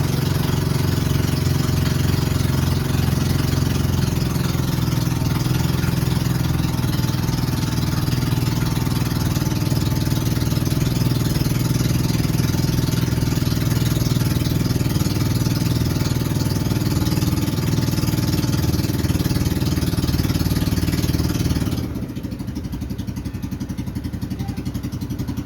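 A boat engine runs on the Yamuna river at Mathura with a loud, steady chugging drone close by, holding level for over twenty seconds before dropping to a quieter hum.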